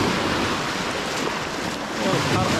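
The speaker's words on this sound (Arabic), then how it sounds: "البحر هذا هو البحر" Sea waves washing onto the shore at Imi Ouaddar near Tiguert, a continuous broadband surge and hiss of surf mixed with wind noise on the microphone, fairly loud and steady with a brief dip before rising again.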